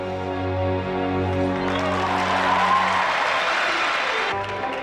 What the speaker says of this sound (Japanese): 大胆さと繊細さを兼ね備えた演技に大きな拍手が上がりました